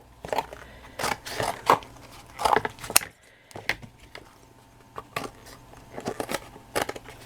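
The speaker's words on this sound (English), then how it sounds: "So I'll just chop that end off." The end of a piece is chopped off with sharp cutting snips and crunches, arriving in irregular close bursts with brief pauses between them.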